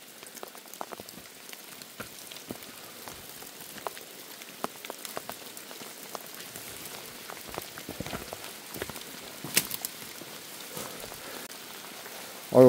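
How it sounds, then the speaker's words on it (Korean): Monsoon rain falls steadily on a forested hillside, a soft continuous patter with scattered sharper drips on leaves and surfaces, fairly quiet and unbroken throughout. "아유, 비가 오니까는"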